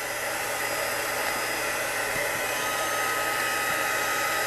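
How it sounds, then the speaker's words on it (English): A heat tool blows a steady, close, unbroken hiss of hot air while warming cardstock, with no talking over the constant whoosh. "I'm gonna turn my heat tool on and just warm up that cardstock."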